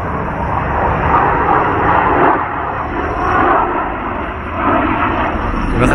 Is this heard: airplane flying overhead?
yes